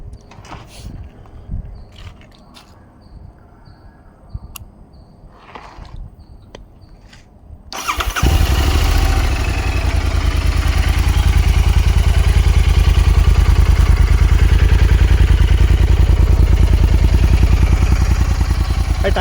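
Royal Enfield Interceptor 650 motorcycle with a modified exhaust fires up after quiet handling sounds, then settles into a loud, steady, close-up idle with a deep, throbbing burble.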